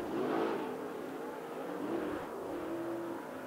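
Late model race cars roar around a speedway during a heat race, engines rising and falling as they pass in single file, loud and continuous at mid distance.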